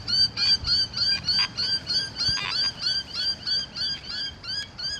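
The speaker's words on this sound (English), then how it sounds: "Some of the local birds having a bit of a chatter about it." Local birds honk in a rapid, repeated goose-like chatter at an old one-room schoolyard. The calls come in a steady run of fairly loud pulses at moderate distance, with no talk over them.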